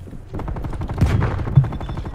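Rapid automatic gunfire from a full magazine emptied in Call of Duty Black Ops Cold War multiplayer, dense bursts of shots with a couple of louder impacts, steady and close throughout.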